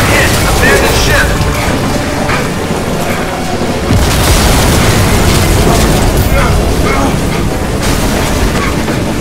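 In the video game Crysis 2, a ship is struck and its hull is breached, setting off a massive, sustained explosion: loud, dense booming and rumbling that carries on without a break, layered with metallic mechanical clatter.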